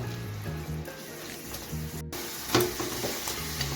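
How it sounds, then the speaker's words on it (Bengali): Grated coconut and sugar for narkel naru are stirred continuously in a pan over medium heat, producing a soft, moist sizzle with scraping strokes while a gentle melodic tone plays quietly underneath. "এভাবে অনবরত নাড়তে থাকবো নেড়ে চেড়ে নাড়ু তৈরি করে একটা মিশ্রণ তৈরি করে নেব"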